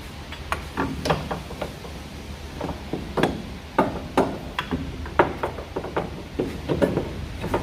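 Metallic knocks and taps while a new lower control arm is fitted on a 2015 Infiniti Q40, irregular close clinks and clunks from tools and suspension parts, moderately quiet over a low background hum.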